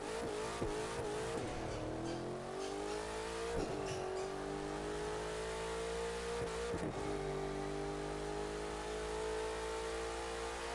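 An Alfieri concept car in the racing game The Crew 2 revs and accelerates steadily for about ten seconds. The engine drones at mid pitch and rises in pitch, with brief dips at a few gear changes, and plays alone without talk.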